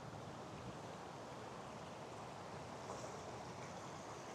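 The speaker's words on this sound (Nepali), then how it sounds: "खोला हेर न खोला" A small stream flows quietly at a camp in Tasmania, a soft, even burble and hiss that continues unbroken with no voices.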